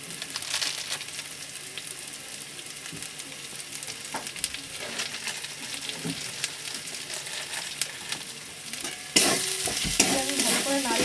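A fish finger mixture seasoned with ground black pepper and Kashmiri chilli powder is stirred steadily by hand, giving a continuous close-up squelching and scraping that grows louder and brighter near the end, with no voices.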